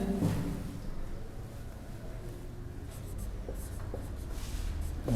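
Pen scratching on paper during a physics lesson about electric charge, a steady close scribbling with small taps and strokes, no voice over it.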